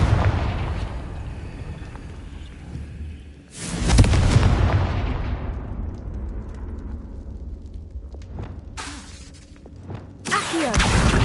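A Confringo blasting spell in Hogwarts Legacy lands as one sudden loud explosion with a rumbling tail that slowly fades, followed later by two sharper, shorter blasts near the end; no one talks.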